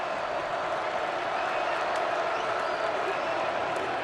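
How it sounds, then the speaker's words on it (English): A split stadium crowd of Florida and Georgia football fans roars in a steady, dense wash of distant cheering and applause, with a commentator's voice running over it throughout. "This is the first time we've had a split crowd, so you can actually hear some of the noise."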